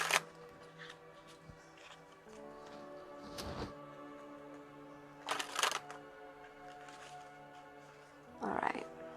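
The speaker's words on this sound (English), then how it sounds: "Let me just shuffle this up." Tarot cards being shuffled by hand, soft riffling and sliding bursts at the start, around 3.5 and 5.5 seconds and near the end, fairly close and quiet over a faint background.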